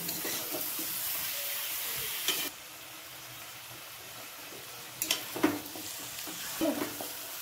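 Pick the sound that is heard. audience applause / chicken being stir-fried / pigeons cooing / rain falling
chicken being stir-fried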